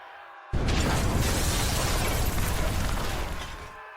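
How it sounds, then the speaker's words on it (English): Explosion aboard an aeroship in a steampunk audio drama, a sudden loud blast that erupts into a dense, roaring rumble with crackling debris, sustained for about three seconds before cutting off. "An explosion ruptured from deep within the belly of her aeroship."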